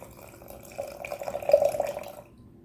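Water poured into a jar holding turmeric, ginger and apple cider vinegar, a soft trickling splash that swells for about a second and a half and then stops abruptly, close and fairly quiet.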